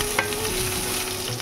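Chopped onions fry in a pan for an egg-and-potato fry, giving a steady close sizzle with a stirring scrape near the start and no talking.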